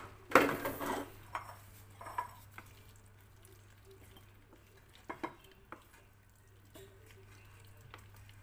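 Cooked chicken is scraped and spooned from a pan into a bowl: scattered metallic clinks and knocks of a utensil on cookware, one sharp clatter near the start, then lighter taps over a steady low hum.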